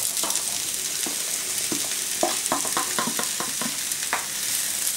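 Bell peppers and onions fry in a pan with a steady sizzling hiss while a utensil scrapes and taps the pan in short bursts, close by and with no voices.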